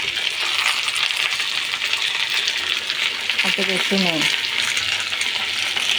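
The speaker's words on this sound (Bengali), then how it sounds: "এবার আলুগুলো আমি ভালো করে একটু ভাজি করে নেব।" Potato pieces fry with turmeric in hot oil previously used for soybean muithya, giving a loud, continuous sizzle that runs throughout, briefly stirred near the middle, while someone says a few words.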